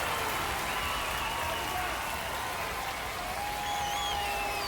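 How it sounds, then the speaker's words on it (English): A college baseball crowd at Clemson versus LSU roars and cheers after a home run, a continuous dense wash of noise with whistles and shouts rising through it. "This crowd is on fire right now. They're going nuts thanks to that home run."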